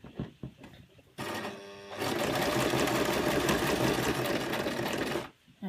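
A sewing machine stitches around the buttonholes of a fabric sensory maze cuff. A few soft clicks come first, then a brief run, and after that a sustained, loud, rapid mechanical whirr that lasts several seconds before it stops abruptly.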